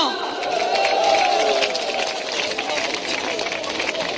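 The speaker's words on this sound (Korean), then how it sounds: "국정원 개혁을 위한 국민운동본부의 그동안 활동에 대해서 힘찬 격려의 박수 부탁드리겠습니다" A large crowd at a Democratic Party rally on reforming the national intelligence service claps in encouragement, a thick, sustained wash of applause mixed with crowd noise and voices.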